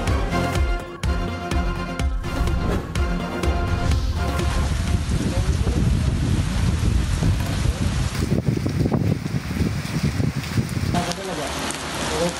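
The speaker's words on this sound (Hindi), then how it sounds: "काली घटाएं, तेज हवाएं और बारिश।" Strong monsoon wind and heavy rain roar continuously during a stormy downpour in Islamabad, a loud, dense rush with gusty buffeting that stays unbroken throughout, with no talking.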